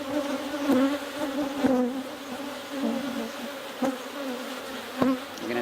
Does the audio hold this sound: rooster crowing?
no